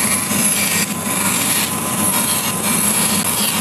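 Small scrap of wood, about half by three-quarter inch, being cut into pieces on a saw with a protractor arm, a steady, loud whining buzz with faint pulses from each pass.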